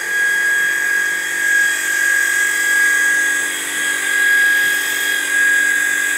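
An ice plant refrigeration compressor runs continuously with a steady mechanical hum and a bright sustained whine, loud and close, holding constant without voices.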